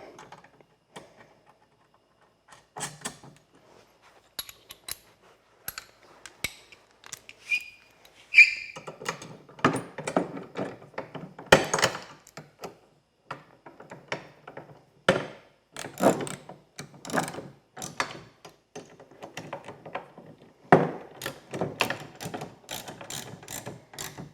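Repeated ratcheting clicks from a 13mm socket wrench tightening bolts, alongside use of a 5mm Allen key, while fitting the rear brace hook of a bed extender on a Seizmik Pioneer 1000; bursts of close, rhythmic clicking come and go with brief pauses.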